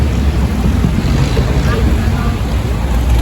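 A long-tail boat motors across the sea near the Phi Phi Islands in Thailand, a loud, low engine drone buffeted by heavy wind noise and rushing water, continuous and close.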